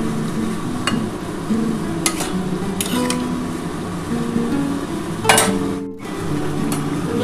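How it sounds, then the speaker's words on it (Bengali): Chicken stir-fried with kabuli chickpeas and spices in a pot, heard as a soft sizzle under occasional scraping and clinking stirs of a spatula, close up, with no voices. "আমার কিন্তু কাবলি ছোলাটার সাথে কিন্তু সমস্ত চিকেনের কষানোটা আমি কিন্তু কষিয়ে নিচ্ছি।"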